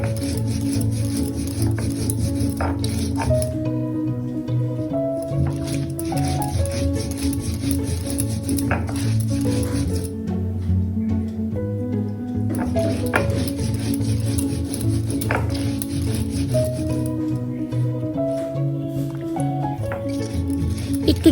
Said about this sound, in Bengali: দেখুন আমি আস্তে আস্তে মশলাগুলোকে বেটে নিচ্ছি।